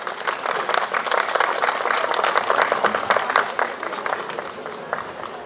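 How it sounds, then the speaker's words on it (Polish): Audience at an outdoor harvest festival, the county fruit-picking celebration in Łukowica, applauding steadily as officials are invited onstage; dense, continuous clapping from a large crowd throughout, with no voices over it. "Wielkie brawa."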